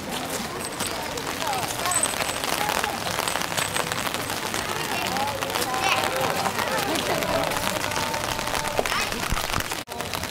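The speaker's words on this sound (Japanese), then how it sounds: "今日はあいにくの雨です。" Steady rain patters down outdoors at a rice-planting festival at the Itazuke archaeological site, a dense continuous hiss throughout with a crowd murmuring in the background.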